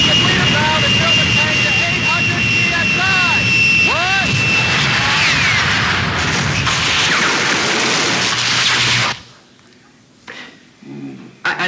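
A loud jet engine roar sweeps and whines for several seconds like a jet propulsion pack firing, then cuts off abruptly into near silence with a few faint thumps afterward.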